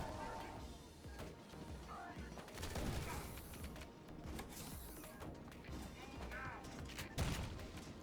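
In the video game Ion Fury, a turret fires rapid gunfire bursts amid clattering mechanical noise and other game sounds, with a voice talking over it at times.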